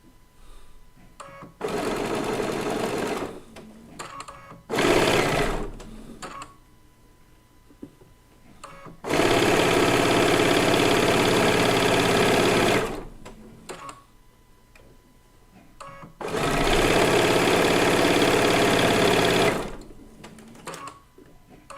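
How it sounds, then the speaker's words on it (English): A sewing machine stitches flower quilt blocks in several bursts of steady, close, loud motor hum of a few seconds each, with quiet pauses between runs. "I'm feeding the fabric through the machine."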